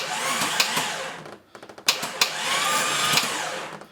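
A Jeep 4.0L engine turning over under a remote starter after cylinder head installation, a steady whirring grind with rhythmic compression pulses and a brief pause midway, loud and close.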